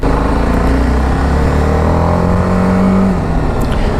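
A TVS Apache RR 310 motorcycle engine revs hard and steady, a loud continuous drone with rising pitch above 4,000 RPM, close by and without pause.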